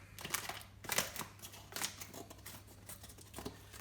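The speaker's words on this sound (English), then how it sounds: "take a pair of scissors, and we just need to cut the valve away from the bag" Several crisp snips of scissors cutting a plastic bar valve away from its bag, close and fairly quiet, spaced irregularly with faint handling noise between.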